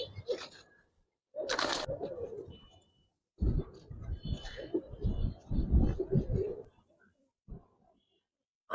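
Giribaz pigeons, silver and colored birds, give soft, low, throaty coos in several separate bursts with short silent gaps between them, heard close up.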